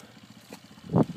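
A motorcycle engine putters at low idle on an uphill climb, then surges in a short, louder rev near the end.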